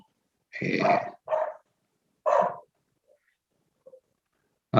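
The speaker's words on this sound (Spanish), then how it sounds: "Hay un perro que viene y le pelea a los de acá adentro y ahí hay quien ladra más." Dogs bark and growl outdoors in a scuffle, with a loud burst of barking, a couple of shorter barks, then quiet pauses with faint yips before another bark at the end.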